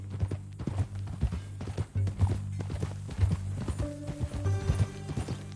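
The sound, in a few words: horse hooves clip-clopping, video game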